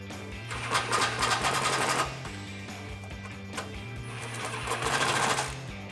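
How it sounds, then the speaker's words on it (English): A 13mm socket ratchet clicks rapidly in steady rhythmic runs while tightening the bolts of N-Fab podium nerf step bars on a 2016-2019 Toyota Tacoma Double Cab, close and fairly quiet, with short pauses between strokes. "Now you can grab a 13mm socket and tighten these down."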